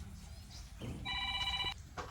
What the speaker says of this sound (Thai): รับโทรศัพท์ก่อนแล้วกันครับ